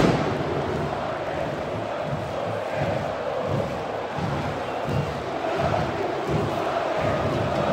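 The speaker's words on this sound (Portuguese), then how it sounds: "Torcedor indo na loucura aqui no Maracanã" Flamengo fans at Maracanã stadium roar in a dense, sustained crowd noise with chanting and shouting surges, loud and continuous throughout.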